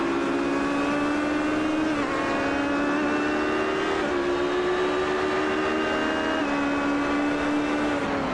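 GT race cars lapping Watkins Glen in a sim racing league, a loud steady engine drone with several cars at once, their pitch rising through the gears and dropping at shifts about every two seconds, no talk.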